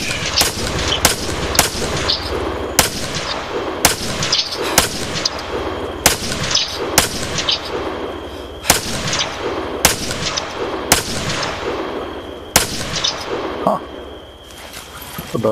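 Gunfire in Arma 3, a series of sharp, loud single shots at irregular intervals, roughly one every second or so, with some echoing, while voices talk in the background.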